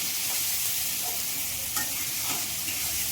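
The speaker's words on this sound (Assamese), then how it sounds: "মই নহৰু পেষ্টৰ লগত ভাজিছোঁ" Potatoes and eggplant frying with garlic paste give a dense, even sizzle close by, with faint scrapes of stirring and no voices.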